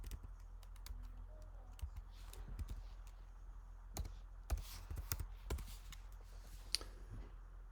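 Light keyboard typing on a computer as a password is entered while setting up a Chrome profile for a school account: a loose run of soft, scattered keystroke clicks, fairly faint, with no one talking.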